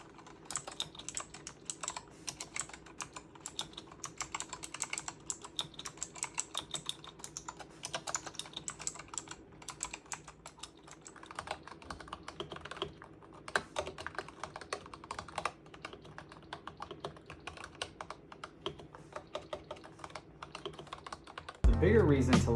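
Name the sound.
typing on Razer Huntsman V2 Analog keyboard switches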